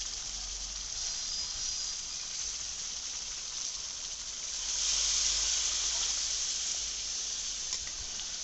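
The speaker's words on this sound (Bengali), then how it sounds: "এবার জল দিয়ে দিচ্ছি" Water poured into spice masala fried in oil with Kashmiri chili, producing a steady, close hissing sizzle that swells briefly midway.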